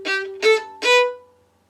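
A violin plays three bowed notes from a film theme, clear and close, each a bright sustained tone in a short even rhythm, the last note ringing out and fading to silence.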